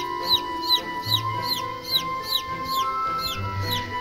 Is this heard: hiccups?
no